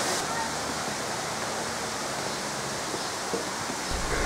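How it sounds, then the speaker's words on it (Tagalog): Rushing water of Balite Falls waterfall in the Philippines, a continuous broad roar of falling water, steady and loud, with no clear talk over it. "Habang pababa kami, rinig mo na ang mga pagaspas ng tubig."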